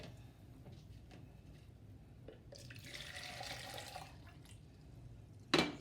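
Water poured from a cup into homemade lemonade, a steady trickling splash that swells in the middle of the pour, followed by a sharp clink near the end, close and fairly quiet.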